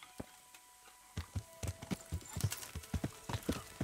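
Horse hooves clip-clop at a steady gallop in the medieval game Kingdom Come: Deliverance, a run of sharp, regular thuds that grows louder and denser after a quieter opening, with no talking.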